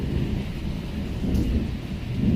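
Heavy thunder rumbles through a night rainstorm, a deep continuous roll over the steady hiss of rain falling on surfaces, loud and sustained with no voices.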